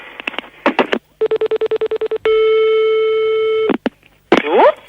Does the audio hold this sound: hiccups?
no